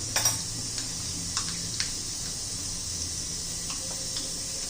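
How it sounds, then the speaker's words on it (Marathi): Mustard seeds spluttering in hot oil in a wok, a steady bright hiss dotted with scattered sharp pops and crackles, close and alone. "छान अशी मोहरी तडतडून द्यायची आहे."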